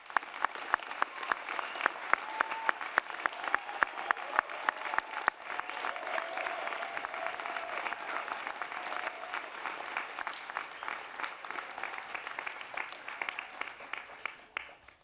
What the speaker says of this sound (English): my notes once again call for an enthusiastic applause.